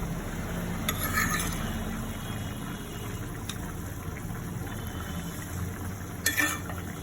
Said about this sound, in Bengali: দেখি মাছটা একটু কষাই নিচ্ছি হালকা করে।